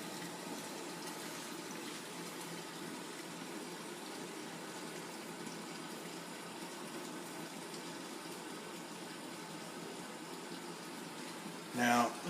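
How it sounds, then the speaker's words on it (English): Water flowing into a Magic Chef 1.6 cubic foot portable washer, a steady, even rushing fill that runs unbroken for several seconds, ending with a brief knock. "You can see the water is flowing through."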